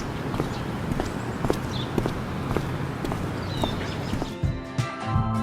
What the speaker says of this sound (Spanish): el sonido que hacen las pisadas de algunos personajes es el mismo que hacen las de Chloe